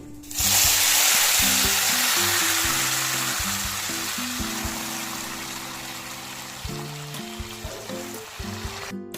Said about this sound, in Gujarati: હવે એમાં આપણે દાળનો વઘાર કરી નાખીએ